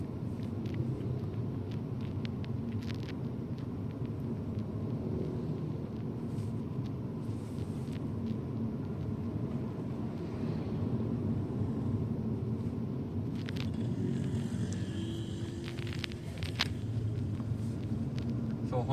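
Interior of a 2022 Honda Civic 1.5L RS on a small road, with a steady low engine and road rumble and tyre hiss throughout, a few faint clicks and brief higher whooshes in between.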